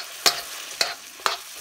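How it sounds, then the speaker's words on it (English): Lobster cook-up with garlic cloves sizzling in a pan at a cabin, stirred in three sharp scraping sweeps over a steady soft fry, close and fairly loud, with no talking. "Bit of stir around there, get that going."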